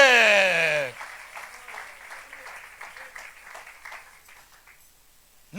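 After a loud voice at the start, a church congregation breaks into applause, a moderate spread-out patter of clapping that slowly fades to near quiet before the voice returns.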